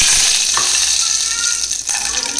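Mustard seeds splutter in hot oil, sizzling and crackling steadily, with a few louder pops and splutters over the bright hiss.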